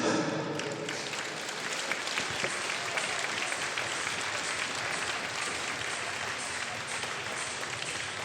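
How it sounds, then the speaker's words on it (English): Sustained audience applause at an indoor archery medal ceremony for compound and recurve team finals, a dense steady clapping from a large crowd that fills the whole stretch without a break. "Applaudissements, s'il vous plaît."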